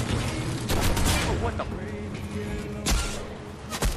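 Gunfire in the video game Fortnite, with dense bursts of rapid shots and sharp reports across the clip. The fusillade stays loud and close, and a few brief spoken sounds come in beneath it.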